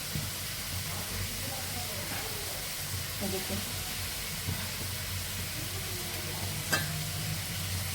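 Spices and potatoes fry in a pan with a low continuous sizzle and occasional stirring scrapes, with a sharper clatter near the end.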